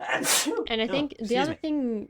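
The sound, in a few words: sneeze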